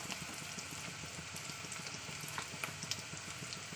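Ginger, garlic, cumin and chili paste fries with onions in a pan, producing a soft, continuous sizzle with scattered fine crackles and pops, fairly faint and steady, no one talking.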